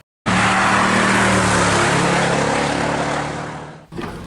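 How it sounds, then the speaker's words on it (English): A Jeep Gladiator bakkie's engine fires up via remote start, a loud sudden roar that settles into a steady idle, then drops away near the end. "Remote start is very nice"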